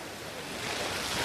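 Floodwater rushes steadily through a flooded neighbourhood in Dapodi, a broad continuous roar that swells slightly louder toward the end, with no voices over it.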